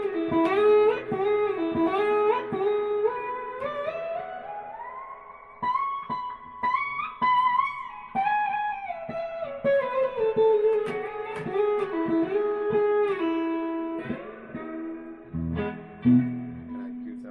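Single-string slide guitar lick with smooth gliding pitch bends rising and falling over about seventeen seconds, played alone, close and clear, ending in a few lower notes.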